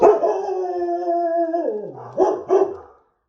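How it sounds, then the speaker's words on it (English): A dog indoors lets out a drawn-out howling whine that slides downward, then two short, sharp barks, fairly near and unaccompanied by talk. "Oh, and there goes the dog."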